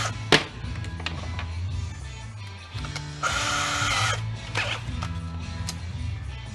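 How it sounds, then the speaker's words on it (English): A power drill backing flathead screws out of a print shop conveyor belt during scrapping, with short whirring bursts, a louder high-pitched run in the middle and clicks and handling noise between them. "And I got some flatheads I got to take out."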